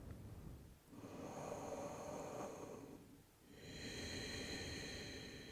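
Steady conscious breathing through a home yoga practice, with long airy breaths swelling and easing in two slow cycles, close and fairly quiet with no speech.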